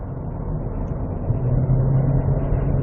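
A Hyundai Tucson Hybrid, a front-wheel-drive SUV, accelerates on a test drive with a low, steady engine and road hum from inside the cabin that swells slightly as it speeds up.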